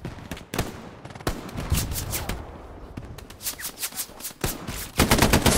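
Rapid automatic gunfire and single shots in the World War II shooter Hell Let Loose, loud bursts clustered at the start and end with scattered distant shots between, no talk.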